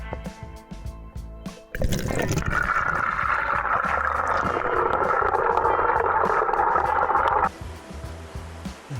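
Water pours and gurgles steadily into a camp billy by Scott Creek in the New Zealand bush, a close, continuous rush lasting several seconds before stopping abruptly.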